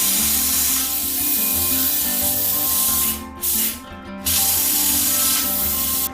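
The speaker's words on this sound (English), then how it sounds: "We're going to try using the plasma cutter first, and it's got a gouging bit on it." A plasma cutter fitted with a gouging bit burns weld metal off a Subaru Evo rear suspension part, giving a loud continuous hiss and roar that cuts out briefly twice before resuming.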